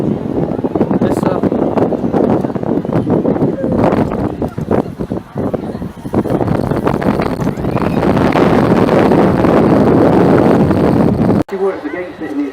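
Wind at the Bristol Balloon Fiesta, blustery gusts buffeting the microphone with rumbling noise that rises and falls, loud and close, with people talking throughout.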